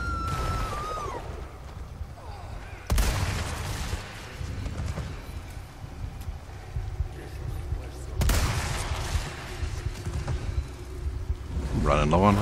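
Two heavy rifle shots boom out several seconds apart in Resident Evil 4 Remake, each a loud sudden blast over a low game soundscape with a voice speaking in between.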